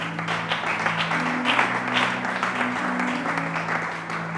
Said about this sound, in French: Quelqu'un m'aide à acclamer très fort Jésus.